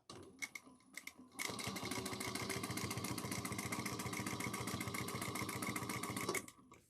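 A domestic sewing machine top stitching bias binding onto a pouch lining, starting with a few short stuttering runs, then a steady fast rhythmic needle clatter that continues evenly for several seconds before stopping.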